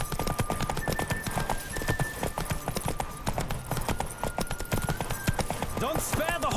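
Rapid clip-clop of a horse galloping in The Witcher 3, a steady fast rhythm of hoofbeats kept up throughout, with a voice, game music and ambient sound layered over it.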